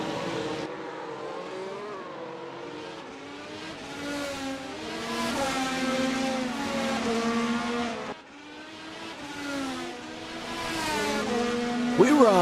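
Race cars in a racing video game on the Indianapolis road course, engines droning and rising in pitch as a train of cars runs close together, with a commentator talking over the steady engine noise.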